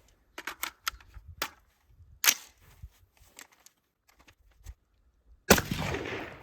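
An AR-15 with an 18-inch barrel fires through an Ace Ultra suppressor. One sharp, muffled shot with a short decaying tail rings out near the end, after a scatter of faint clicks and handling noises.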